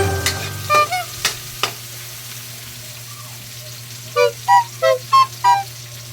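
Miso sautéed and stirred in a pan with aromatics, a low steady sizzle under a run of sharp spoon clinks and scrapes against the pan, close by, with no talking.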